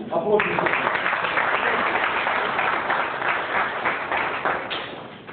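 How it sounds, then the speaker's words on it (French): A conference hall audience applauding a speaker after his lecture, steady dense clapping sustained throughout at full strength, with little letup until the end. "applaudissez-le encore."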